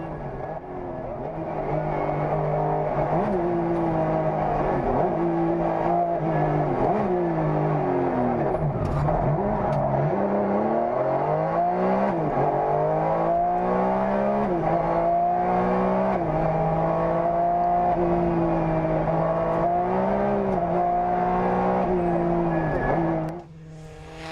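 A Porsche 996 GT3 rally car at a French rally in Lunéville, its engine climbing and dropping through gear changes in a long, loud, close run with hard revving and brief tire scrubbing.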